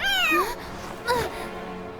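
Kirara, a cat in Genshin Impact, gives two clear rising-and-falling meows, the first long and bright, the second shorter after a pause, with faint background sound between them.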